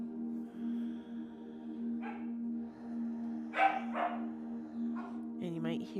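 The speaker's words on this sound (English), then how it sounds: "I have little puppies in the background. I gave them chew toys to play with for this practice." Little puppies busy with chew toys give a few short, quiet barks and yips, spaced out across the stretch against a steady low hum in the room.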